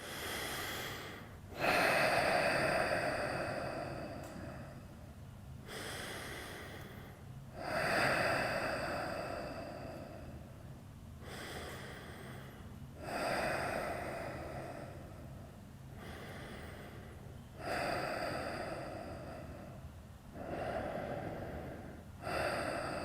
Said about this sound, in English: Take 5 breaths here.